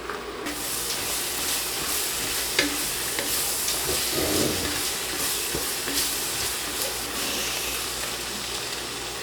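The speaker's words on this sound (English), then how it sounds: "Make sure that you're stirring frequently during this process to ensure that your onions don't burn to the bottom of the pot" Onions cook in a pot for French onion soup, a steady sizzle and hiss with occasional scraping stirs, constant and moderately close with no talking.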